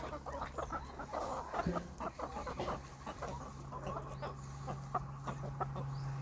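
Several chickens cluck and chatter close by in a continuous, busy stream of short calls, with a low hum underneath.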